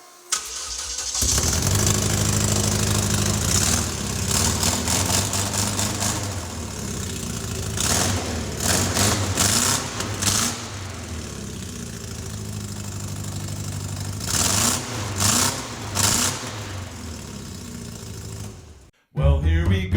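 A Volkswagen Beetle engine cranks and catches, then runs with an uneven, rattly idle and several revving surges over the following seconds, loud and close before cutting off near the end.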